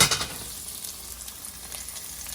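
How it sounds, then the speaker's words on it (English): Steady close sizzling of chicken frying in hot olive oil, a continuous crackling hiss with a slightly louder burst at the start. "I'm gonna go ahead and put in our chicken. It should sizzle."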